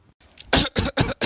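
Four sharp coughing bursts from a young girl choking on a fish bone caught in her throat, starting with a faint catch and then three loud, evenly spaced coughs close to the listener.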